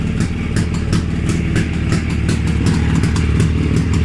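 A carburetted engine running steadily on test while its cylinders warm up, a loud, even, throbbing idle with a rapid pulsing beat, close by and alone with no talk.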